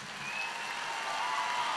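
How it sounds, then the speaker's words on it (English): An audience applauds military-veteran graduates at a May 2019 associate degree and certificate ceremony, a steady, fairly faint wash of many hands clapping that holds evenly throughout. "Let's give them a round of applause."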